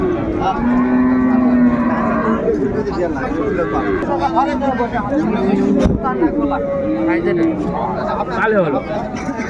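Cows and calves at the Raniganj cattle market low repeatedly in drawn-out moos, several animals close by, amid a steady hubbub of traders talking and bargaining.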